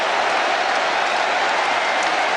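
A French crowd roars and cheers after a try in the 1999 Rugby World Cup semi-final against New Zealand, a loud, dense, unbroken wall of stadium noise that holds steady throughout.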